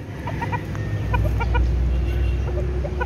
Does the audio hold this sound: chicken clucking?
yes